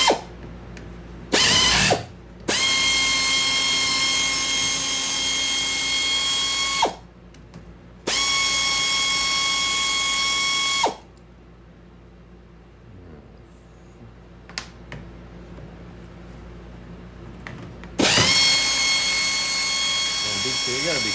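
A pneumatic air tool rattles in loud sustained bursts while working on the fork of a Ducati 900SS motorcycle, several runs of a few seconds each separated by pauses with faint clatter.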